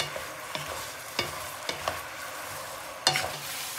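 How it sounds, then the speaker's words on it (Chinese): Chicken feet braising liquid bubbles and sizzles over high heat while it reduces. A spoon stirs the pot with several distinct scraping clacks over a steady close simmer, and no one speaks. "大火烧汁"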